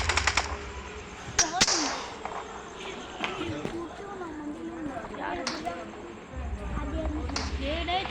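Sharp gunshots from a simulation shooting video game crack a few times amid game effects, with someone talking over them throughout.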